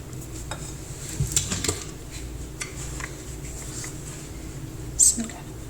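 Soft scraping and clinking of a utensil against a bowl, with a few louder knocks, as tea cake batter is mixed into flour; no talk.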